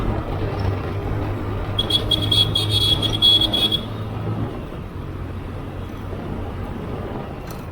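A Yamaha RX 100 motorcycle engine holds a steady, low, nearby drone that eases off after the midpoint, with a brief higher whine over it partway through and traffic-like noise around it.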